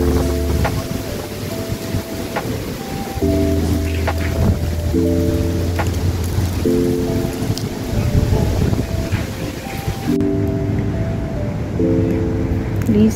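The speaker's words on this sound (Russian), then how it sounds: "Ветер гонит воду." Steady outdoor wind rumble driving autumn pond water, lapping and sloshing, mixed with recurring low tonal drones, continuous throughout.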